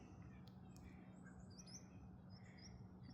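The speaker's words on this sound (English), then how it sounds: "Oh, it's a bird." A bird on a forest nature trail gives a few short squawks and chirps, faint and somewhat distant, over a steady low outdoor background.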